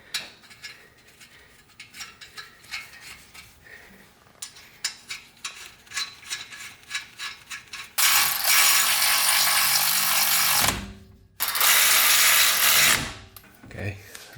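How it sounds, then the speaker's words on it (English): Ratchet wrench clicking in rapid bursts while tightening front brake caliper nuts on an F10 BMW M5, close and loud, with a sustained faster ratcheting run and short pauses between strokes. "I'm gonna loosely put on the top and bottom nuts first"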